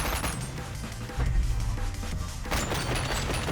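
Pump-action shotgun blasts ring out in the VR game Bonelab, several loud booming shots with heavy low thumps and rumbling decay, no voices.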